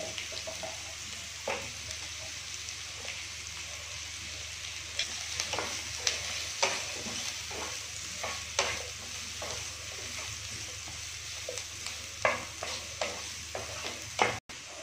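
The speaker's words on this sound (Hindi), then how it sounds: "जब तक हमारा प्याज सिकता है" Onions and capsicum sautéing in a pan for malai soya chaap: a soft, steady sizzle punctuated by regular clicks and scrapes of a spatula, close and without talk.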